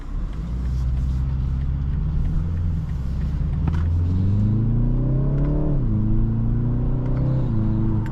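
A 2023 BMW 330i xDrive with a four-cylinder engine pulls away, its deep exhaust rumble rising in pitch as it accelerates through the gears, heard steadily from inside the car.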